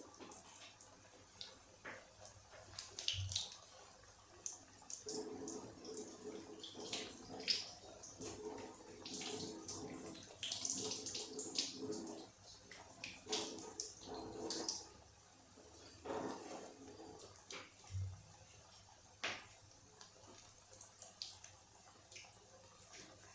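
Potato nuggets for a fasting recipe dropped into hot oil on a high flame, giving a steady close hiss and crackle of bubbling with bursts of sharper sizzle throughout, no talking.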